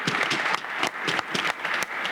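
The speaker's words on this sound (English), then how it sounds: "Let's give him a round of applause." A short burst of applause from a small crowd at a council meeting, steady hand clapping throughout at moderate volume.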